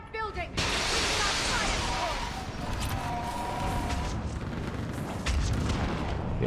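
Artillery fire support in Mass Effect 3 fills the scene with a continuous heavy barrage of booms and rumbling blasts, loud and sustained, with voices faintly mixed in.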